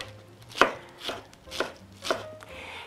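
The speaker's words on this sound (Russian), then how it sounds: "Пекинскую капусту можно нарезать соломкой, можно нарезать на квадратики." A knife chops napa cabbage on a board in a slow, steady rhythm, five crisp crunchy cuts about half a second apart, close and fairly quiet.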